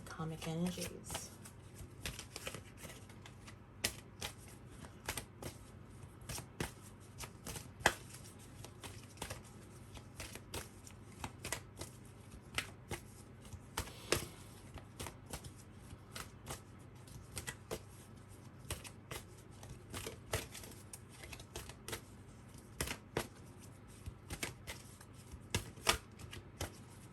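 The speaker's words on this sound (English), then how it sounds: "Just shuffling forever, picked up the wrong deck" Tarot cards shuffled over and over for a long stretch, a steady run of quick riffling clicks and soft slaps that sound close and crisp, with a faint low hum underneath throughout.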